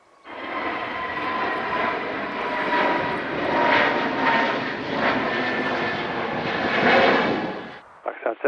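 An airliner's engines roar in a loud, sustained takeoff run on a Manchester Airport runway. A brief faint voice cuts in at the very end.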